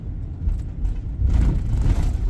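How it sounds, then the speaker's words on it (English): Heavy road rumble from a big truck driving close behind a car on a South Carolina road near Calhoun Falls, a steady low engine drone that swells louder in the second half. "We got a big truck pound us from behind"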